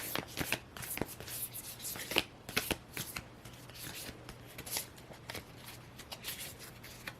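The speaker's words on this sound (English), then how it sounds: "Let me shuffle one more and I'll just pull the one from the top" A deck of tarot cards is shuffled by hand, close and crisp, in irregular bursts of riffling and sliding snaps that continue throughout, with no speech.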